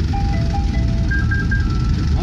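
A small Tokyo garbage truck plays its looping electronic jingle close by, a bright, steady melody of sustained tones over a constant engine rumble.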